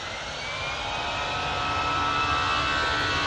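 A jet aircraft on its takeoff roll at Manchester Airport gives off a faint, distant engine whine and rumble that builds gradually over a few seconds.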